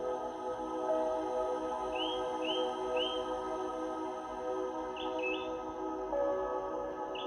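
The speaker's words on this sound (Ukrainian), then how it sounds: "Пташки продовжують співати" Small birds chirp in short, faint, high calls, a few spaced across the stretch, over a steady soft musical drone in a calm outdoor meditation setting.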